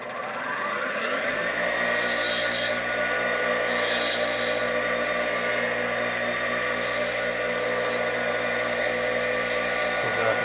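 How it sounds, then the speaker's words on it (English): A modified pedestal grinder with a diamond wheel, used to sharpen a cutting tool, spins up after about a second and then holds a steady, close mechanical whir with a few brief brighter scraping bursts. "it's a regular pedestal grinder that's been modified. It's got a diamond wheel in here."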